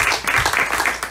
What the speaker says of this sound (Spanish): De palmas a Cristo